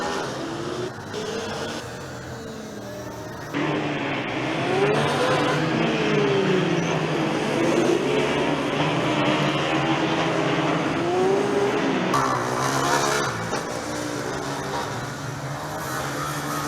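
A Formula Student combustion race car runs the endurance event at a racetrack, its engine droning loudly and continuously, with the pitch rising and falling as it revs through gears and passes close by.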